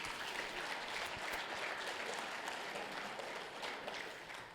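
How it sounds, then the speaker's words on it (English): An audience at a jersey presentation event claps in a sustained round of applause, a dense, even patter of many hands heard from a distance that tapers slightly at the end. "Hey, give them a big round of applause."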